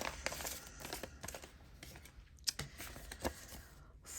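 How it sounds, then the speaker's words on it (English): Paper banknotes being folded by hand for cash-stuffing envelopes, giving soft, close crinkles and rustles with a few sharper creasing clicks at irregular moments. "It's a shame I'm having to fold these notes."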